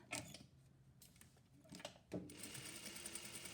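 A sewing machine stitches a straight seam on pajama pants in short bursts, its motor whirring up in quick runs with brief pauses between, then running steadily and close.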